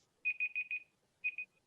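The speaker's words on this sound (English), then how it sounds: "sorry, I have to turn off my alarm." A faint electronic alarm beeps in short bursts, four quick tones, a brief pause, then two more, heard alone in a quiet room.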